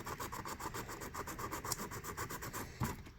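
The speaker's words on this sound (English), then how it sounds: "you can like get in there with your sanding thing and buff out some of this like in the low parts as well" Rhythmic rubbing and rasping as a sanding tool scuffs and buffs a bronze patina mixed-media craft surface, steady repeated strokes close up, with a brief louder scrape near the end and no talk.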